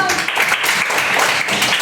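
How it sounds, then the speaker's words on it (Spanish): Classroom applause for a student during a lesson, a short dense burst of handclaps from a small group, close and moderately loud, with voices mixed in. "Un aplauso"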